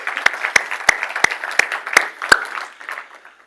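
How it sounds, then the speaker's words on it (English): A conference audience applauds the organizers with a short burst of clapping. Distinct claps punctuate the crowd noise, and the applause fades out after about three seconds. "give them a big round of applause"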